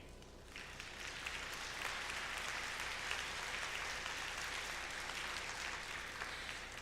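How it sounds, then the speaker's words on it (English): A high school band concert audience gives a sustained round of applause for student interns, dense steady clapping that rises quickly and carries on evenly throughout. "we want to give them a huge round of applause with me"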